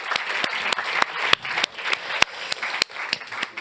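An audience claps steadily for event partners at an insurance-sector awards ceremony, with dense applause sustained throughout and a few sharper claps standing out near the front.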